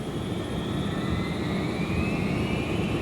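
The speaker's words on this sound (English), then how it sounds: "On takeoff, the 757 performed perfectly." A Boeing 757 jet roars steadily during its takeoff run, a loud, dense engine rumble with a high whine slowly sliding in pitch, continuous throughout.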